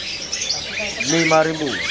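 A jalak kebo starling calls at a bird market, its short chirping notes brief and partly buried under a voice quoting a price.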